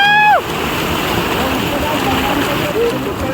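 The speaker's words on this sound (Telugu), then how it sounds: "అలలు అయితే చూడు ఘోరంగా వస్తున్నాయి అలలు" Big sea waves rush and wash onto a beach in Goa, a continuous broad roar of surf close by, with a voice speaking briefly at the start and a faint call later.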